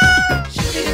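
A cat meows loudly and close by, a single drawn-out call with rising and falling pitch, heard alone.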